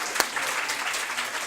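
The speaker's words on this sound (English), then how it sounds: "One more round of applause for our guests." An audience at a library speaker's forum applauds a guest speaker, with brisk, sustained clapping that starts with one sharp clap and continues evenly throughout.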